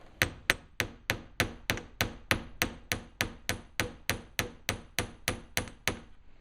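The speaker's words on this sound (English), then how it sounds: "hammer straight down as possible" A fast, regular run of ringing hammer strikes on a brass piece for earrings, around twenty in a row at an even pace, close up and without voices.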